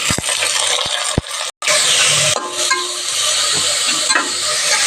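Onions and green chillies stir-fry in a hot pan with a loud, dense sizzle and a few scraping strokes. A brief gap breaks the sound before the frying carries on strongly.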